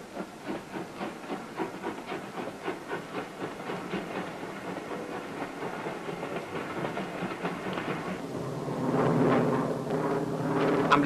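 A steam train runs along a railway in Norway, its rhythmic chuffing pulses repeating steadily before giving way to a louder, rougher hissing roar near the end; no speech.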